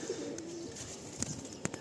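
Pigeons in a loft give a short, faint coo followed by a few soft clicks and rustles, distant and quiet against steady background noise.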